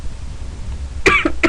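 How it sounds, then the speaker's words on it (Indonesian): A person gives three short, sharp coughs in quick succession, close and fairly loud, after a quiet stretch of room noise. "Maaf, lagi batuk."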